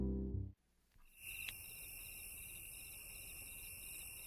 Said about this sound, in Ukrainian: цвіркуни